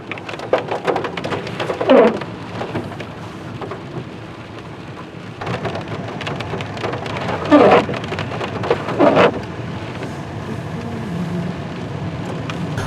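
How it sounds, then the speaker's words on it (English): Fall rain in the Pacific Northwest falls in a steady, loud hiss across the whole stretch, broken by several rumbling thunder bursts and a few close splashy gusts, with no voices. "One of the things about fall time in the Pacific Northwest is rain."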